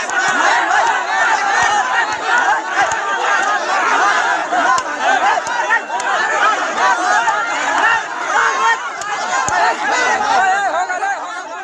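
An angry village mob is beating a young man in front of police, a loud, close crowd of many voices shouting and yelling over one another without pause.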